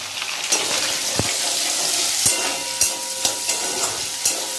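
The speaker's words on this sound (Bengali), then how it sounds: "একটা পেঁয়াজ কুচি দেবো, এই পেঁয়াজটা দিয়ে দিলাম।" Chopped onion hitting hot oil for a Bengali malai curry, a loud continuous sizzle up close punctuated by several sharp clicks and scrapes of a spatula against the pan.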